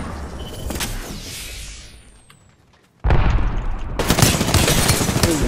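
A grenade blast in the Apex Legends battle royale shooter, heard as a sudden loud burst after a brief lull, followed by continuous heavy rumble and crackling gunfire close up.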